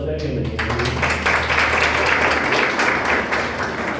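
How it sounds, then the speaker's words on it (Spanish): A church audience gives a welcome round of applause, a dense wash of clapping that starts abruptly after a moment of talk and continues evenly at a moderate loudness. "un aplauso de bienvenida."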